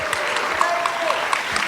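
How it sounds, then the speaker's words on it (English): A short burst of audience applause at a tech conference session, dense and steady, with faint tonal sounds mixed in. "Another big round of applause for him."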